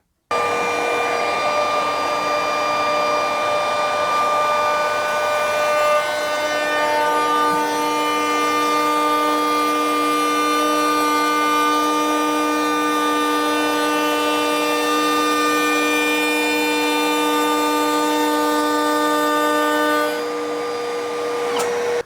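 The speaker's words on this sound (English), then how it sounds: "I've put a rounded over bit in, and we're going to put an edge detail on this bit of MDF" A DeWalt 18V XR brushless cordless trimmer router (DCW600) fitted with a round-over bit cuts an edge detail into a piece of MDF, giving a loud, steady high-pitched whine that holds continuously for over twenty seconds with no talking.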